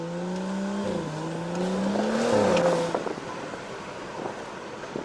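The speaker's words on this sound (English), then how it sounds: "The pops and the upshifts, I like those." A tuned BMW 335i F30 sedan on stage 2 with bolt-ons pulls through the gears, the engine note climbing and dropping at each upshift with crackling exhaust pops, loud and close before the revs fade out.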